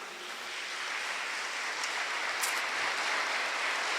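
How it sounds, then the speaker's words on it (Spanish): Broad, steady applause fills a church, a dense even wash of many hands clapping at moderate volume, with no voices over it. "Un fuerte aplauso."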